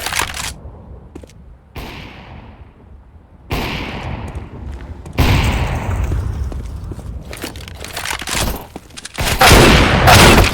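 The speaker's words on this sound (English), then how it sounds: "Throwing a decoy." A decoy grenade in CS:GO fakes bursts of gunfire on the Mirage map, with loud rattling volleys and cracks in uneven clusters separated by short gaps, close and sharp, with no talk over it.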